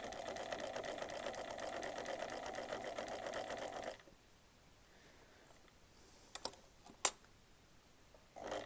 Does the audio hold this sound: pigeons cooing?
no